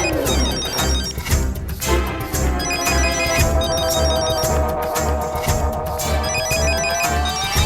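A mobile phone rings with a loud, repeating electronic ringtone melody, pulsing in a steady rhythm close by, with no talk over it.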